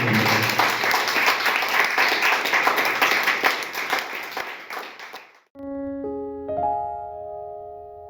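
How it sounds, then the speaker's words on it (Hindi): Congregation applause at a Sunday church service, a dense burst of many hands clapping for about five seconds, then stopping abruptly as sustained keyboard or organ notes begin. "आइए एक जोरदार उत्तम ताली के और यीशु मसीह।"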